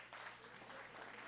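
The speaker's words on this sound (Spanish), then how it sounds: "Un aplauso, ¿verdad?" Faint, distant applause from an audience at an academic panel discussion, a soft continuous wash of clapping with a low steady hum underneath.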